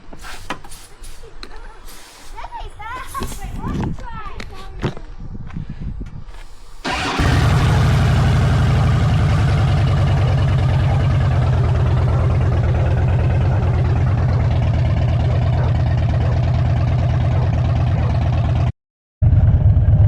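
A Harley-Davidson motorcycle engine, just serviced with a new O-ring and adjusted throttle, fires up after some clicks and handling noises, then runs at a loud steady idle with a throbbing low rumble and briefly cuts out near the end.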